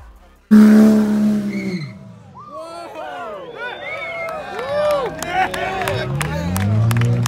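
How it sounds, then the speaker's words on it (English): A Dodge Hellcat and a Toyota Supra do burnouts, with a sudden loud engine roar followed by revving and screeching tires. A crowd cheers and shouts throughout, and the noise builds again toward the end. "they are about to do a bunch of burnouts"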